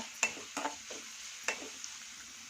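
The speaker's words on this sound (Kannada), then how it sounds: "ಆಮೇಲೆ ಕರಿಬೇವು ಹಾಕ್ತಾಯಿದ್ದೀನಿ. ಚೆನ್ನಾಗಿ ಮಿಕ್ಸ್ ಮಾಡ್ಕೊಳ್ಳಿ." Curry leaves and green chillies sizzling in a pan, heard as a few brief spatters and stirring scrapes over a faint background hiss; no voices.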